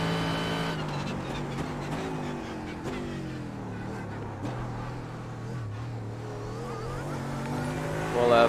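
Mercedes GT3 race car in the iRacing game at Monza, engine note climbing and dropping through gear changes as it brakes into a turn, steady and loud in the background throughout.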